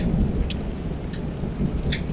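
A heavy thunderstorm at a country house: a dense, loud roar of rain and low rumbling fills the air steadily, with a few brief sharp crackles.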